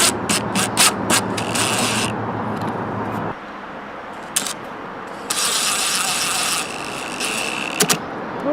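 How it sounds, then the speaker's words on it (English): Loud bursts of a small impact driver with a T20 Torx bit driving screws, several short rattling pulses then longer sustained runs, close up with no talking. "Use my little impact driver with the number 20 Torx on there."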